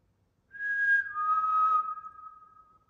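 Single close whistled note from a person in an old prison, a clear tone that steps down in pitch and holds, then fades, against near silence.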